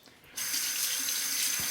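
Tap water runs steadily into a sink while a Merkur Futur safety razor is rinsed under it, starting abruptly after a brief quiet moment and continuing as a loud, even splashing rush.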